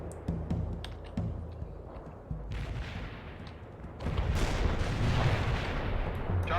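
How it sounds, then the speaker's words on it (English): Artillery barrage in World in Conflict, repeated heavy booms and shell impacts building into a dense, rumbling roar of explosions, loud and continuous. "Barrage inbound."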